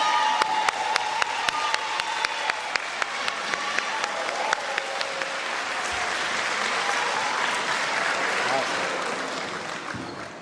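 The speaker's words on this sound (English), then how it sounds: "Stand up and get a round of applause" A crowd at a college signing day applauds scholarship students standing up, broad sustained clapping with some cheering, sharp individual claps up front and a chatter of voices mixed in.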